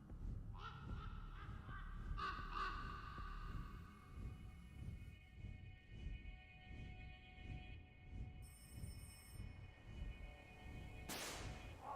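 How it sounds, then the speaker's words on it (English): A crow in the psychological horror video game Rise of Insanity gives a series of honking caws over a low, throbbing game ambience, followed later by a sharp, noisy burst near the end. "Why is it always crows?"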